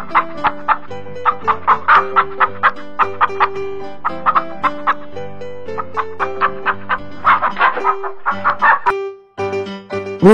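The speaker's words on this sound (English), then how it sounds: "Rooster." Clucking chickens and rooster calls sound in bursts over a bouncy, rhythmic musical backing, with a crow near the end.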